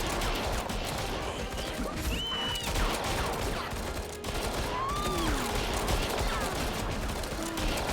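Minions blaze away with machine guns in the video game Evil Genius 2, dense continuous rattling gunfire with scattered impacts filling the whole stretch, with no pause.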